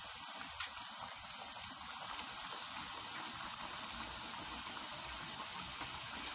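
Donuts fry in hot oil, a steady crackling bubble with occasional sharper pops, close and continuous with no talk.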